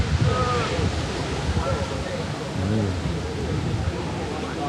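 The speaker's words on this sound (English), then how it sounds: "Oh, it's windy." Gusty wind buffets the microphone in a low, rushing roar while people speak over it in Hyde Park, London.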